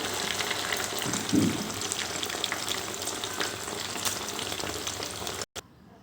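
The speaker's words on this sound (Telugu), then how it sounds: "నూనెలో కొన్ని కొన్ని వేసుకోవాలండి రెడ్ కలర్ అయ్యేంత వరకు వేయించుకోవాలి గోల్డ్ కలర్లో రావాలి" Food frying in hot oil until red-golden gives a steady, close, crackling sizzle that continues without pause, then cuts off abruptly near the end.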